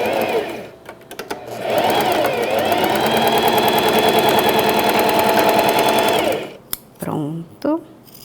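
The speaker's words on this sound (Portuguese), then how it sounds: "peguei as duas laterais para costurar" A sewing machine runs in one steady, fast-stitching stretch of several seconds along the sides of a pet bandana, its motor whirring loudly, then stops, with someone speaking softly before and after.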